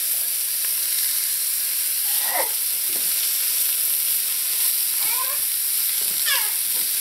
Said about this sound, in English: So you're going to let this cook in here until those vegetables start to get slightly tender.